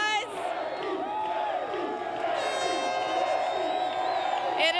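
A baseball stadium crowd at a 1998 Giants at Cubs wild card game cheers and roars in a dense, shouting swell, with whoops rising above it and a broadcaster's voice talking over the noise.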